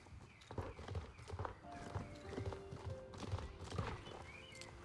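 Steady, rhythmic hoofbeats of a horse clip-clopping along in the Star Stable Online video game, close and even-paced, with a brief whinny rising over the footfalls.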